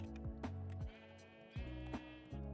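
Sheep in Minecraft bleat in a few short, clear calls spaced across a couple of seconds, fairly quiet and with no talk over them.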